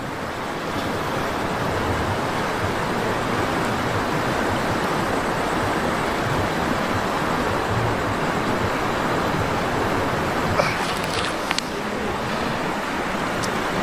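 The Bakas River rushes loudly and steadily nearby, a broad continuous roar of flowing water with a brief faint click near the end and no voices over it.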